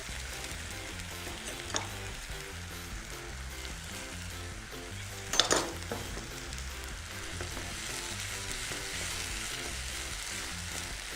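Ginger garlic paste hits hot oil in a pan while cooking a baby corn and fenugreek-leaf fry, giving a steady, loud sizzle with a sharp spatter burst midway and faint stirring, no voices.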